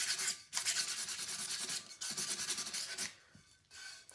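Tumbler being sanded by hand with 80 grit sandpaper, close scratchy rubbing strokes in rhythmic bursts separated by short pauses, with no talking.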